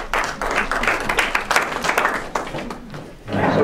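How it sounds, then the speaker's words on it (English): Applause rises at a meeting right after a resolution vote passes, a cluster of uneven handclaps in bursts that swells and fades, with voices mixed in near the end. "I'm just suggesting that the applause might be premature, although I certainly welcome it."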